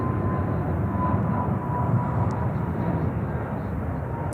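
Steady low jet roar of an airliner taking off from runway 36 Center at Charlotte airport, a broad continuous rumble heard from a distance with no talk over it.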